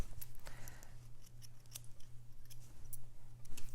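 Scissors trim threads after a seam is sewn, giving a series of quick close snips and metallic clicks over a low steady hum, with no talking.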